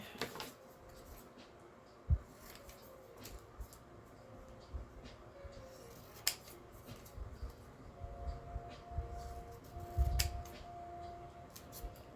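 Faint, scattered snips and scraping cuts of scissors over a quiet background hum, irregular and close by, with no speech.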